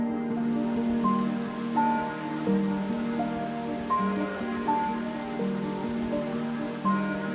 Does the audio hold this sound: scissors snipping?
no